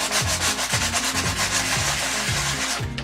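Coarse sandpaper rubbing back and forth over a gesso-coated canvas, a steady close scratching in even rhythmic strokes, about five or six passes, with no talking.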